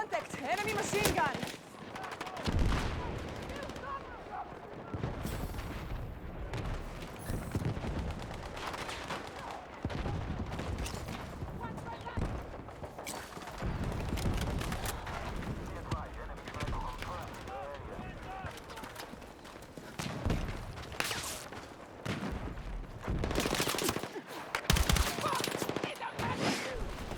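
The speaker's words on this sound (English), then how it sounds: "Enemy machine gun!" Enemy machine gun fire in a video game crackles in dense, rapid bursts throughout, mixed with heavier booms and a busy battle din.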